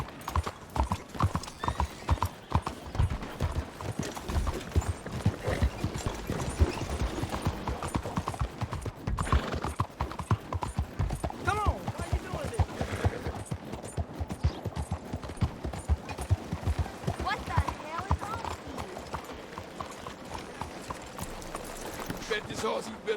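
Horse hooves clip-clop in a steady rhythmic gait in Red Dead Redemption 2, close and continuous over the whole stretch, with a neigh or snort now and then and voices talking over it at times.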